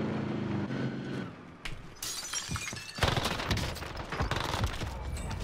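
LW3 Tundra sniper rifle fire in Warzone, several loud, sharp gunshot bursts, with crashing, shattering impacts and a cluttered, noisy battle mix around them, no talk.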